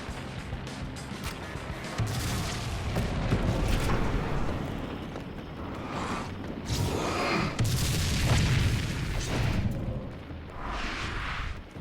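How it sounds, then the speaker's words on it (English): A flashbang goes off in the video game Alan Wake: American Nightmare as a loud, rumbling blast followed by a sustained roar and further booming surges. "I gotta use the flashbang."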